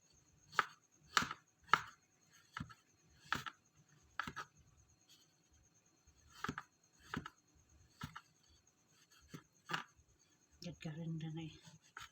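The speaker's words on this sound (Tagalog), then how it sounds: "Hiwain natin yung maliit." Knife slicing old, stale bread into small pieces, a dozen or so crisp separate cuts at an uneven pace, close and fairly quiet, with a brief rustle at the end.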